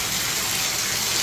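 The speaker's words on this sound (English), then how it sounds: "everything seems to be draining" Water drains from a bathtub through a lift-and-turn tub drain in a house under inspection, a steady loud rushing gush without a break and with no talk.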